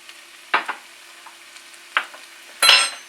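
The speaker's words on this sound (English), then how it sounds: "And then just give that a quick mix around." Thyme and rosemary being stirred into a pot of vegetable stew: a few brief, separate scraping strokes of a spoon against the pot, close, with quiet gaps between them and a slightly longer final stir.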